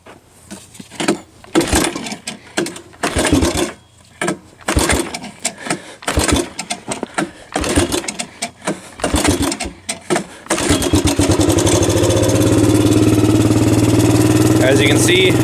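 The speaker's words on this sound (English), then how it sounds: "Now this is going to be a cold start, so it'll take a couple tugs with this one," Repeated pull-cord tugs crank the worn-out engine of an old Suzuki quad on a cold start in uneven sputtering bursts until it catches and settles into a loud, steady rough idle.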